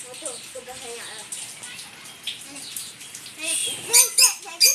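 A pet lovebird bathes in water, with splashing and sharp chirps that grow louder and more frequent near the end, while people talk softly in the background.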